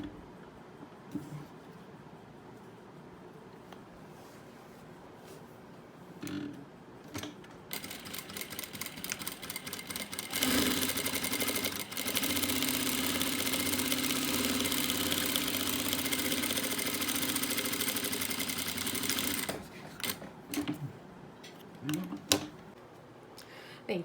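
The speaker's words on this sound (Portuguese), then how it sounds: "costuro um lado. Costuro o outro lado." A sewing machine runs in a sustained stitching burst through the middle of the clip as it sews one side and then the other of a fabric piece for a carnival bloco costume, with quieter handling sounds before and after.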